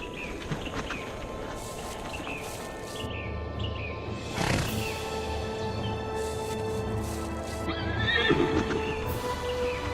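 Zebras moving close by, with a steady patter of hooves over ground and several shrill whinnying calls rising above the trampling, loudest near the middle and end.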